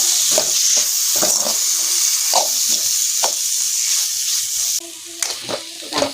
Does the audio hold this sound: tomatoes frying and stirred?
yes